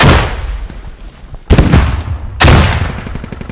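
Frag grenade detonations in the military shooter Squad: a loud blast decays at the start, then two more heavy booms follow about a second apart, each with a deep rolling rumble.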